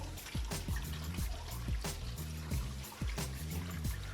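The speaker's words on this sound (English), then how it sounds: "I'm gonna stop the water now" Water flushes through a car heater hose during a heater repair, a faint, continuous trickle with soft pulsing surges.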